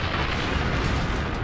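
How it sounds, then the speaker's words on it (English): A massive aerial explosion over the remote Siberian Tunguska forest, the 1908 meteor blast, rendered as a dense, sustained rumbling roar that stays loud and full throughout without a clear break. "an explosion erupted above Siberia's remote Tunguska wilderness."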